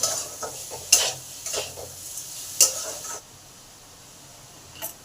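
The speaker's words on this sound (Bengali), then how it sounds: "চিনিটাকেও ভালো করে পেঁপের মধ্যে মিশিয়ে নিলাম।" A spoon stirs sugar into papaya in a pan, giving several sharp scraping strokes with a soft sizzle underneath, followed by a quieter stretch and one last scrape near the end.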